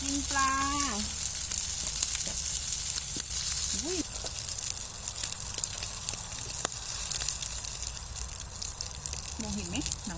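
Fish frying in a pan outdoors in snow, a steady broadband sizzle running throughout with occasional small pops, while someone talks intermittently over it.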